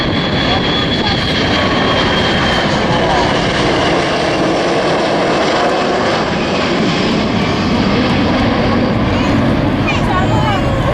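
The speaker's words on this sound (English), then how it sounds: "the tanker will land between 135 and 175 miles per hour" A tanker aircraft landing with gear and flaps down at an airshow in Scotland, a loud, continuous engine roar filling the whole stretch, with a voice speaking over it.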